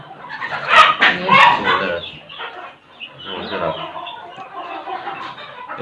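An Aseel hen clucking on a farm in a few close, loud bursts at the start, then softer scattered clucks and rustling later on, with faint voices around.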